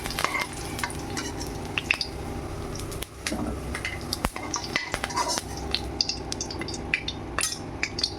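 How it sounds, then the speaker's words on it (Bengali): Potatoes frying in hot oil in a home kitchen pan, a continuous close sizzle broken by repeated scrapes and clinks of a spatula stirring against the metal. "আলুগুলো দেখুন আমার লাল লাল করে ভাজা হয়ে গেছে, কি সুন্দর ভাজা হয়ে গেছে।"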